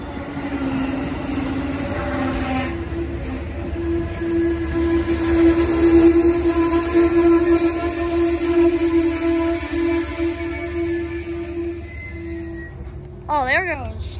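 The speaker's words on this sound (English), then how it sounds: "Oh, here comes one of the freight trains." A freight train rolls past the Amtrak station in Homewood, Illinois, with a loud, steady rumble of wagons and a sustained metallic wheel squeal over about fourteen seconds, while people talk nearby.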